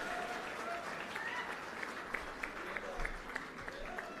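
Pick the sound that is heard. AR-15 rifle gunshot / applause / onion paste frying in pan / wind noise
applause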